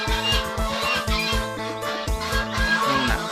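Chickens cluck and murmur constantly nearby during egg collection, several birds overlapping in a busy, rhythmic chatter with no pause.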